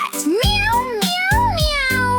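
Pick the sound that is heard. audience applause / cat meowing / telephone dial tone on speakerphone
cat meowing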